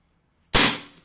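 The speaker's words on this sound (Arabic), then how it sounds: "بس هذا الجهاز اللي بتستخدمه نص اوتوماتيك، بمعنى كل ضغط على الزناد هي طلقة" One sharp shot from a semi-automatic paintball marker, a sudden loud crack that decays quickly after a second of silence, close by with no talk.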